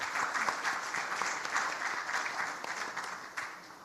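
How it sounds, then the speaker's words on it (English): A conference audience at a ministerial dialogue on youth employment claps in a round of applause for the ministers, a dense, even patter of many hands lasting throughout. "A round of applause, please, for honorable ministers."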